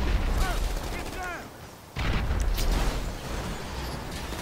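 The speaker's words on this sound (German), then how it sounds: "Jetzt Oh, Achtung, Schulti, Granate" GTA 5 Online gameplay in which a grenade and gunfire sound as dense rattling shots and blasts over an engine-like rumble, with a brief lull in the middle and a voice talking over it.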